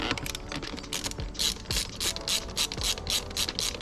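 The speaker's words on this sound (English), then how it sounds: "now the next step is to remove these screws" A ratchet clicks in quick, repeated bursts while screws are removed from a Honda FL5 Civic Type R, the sharp metallic pawl ticks close and crisp with brief pauses between strokes.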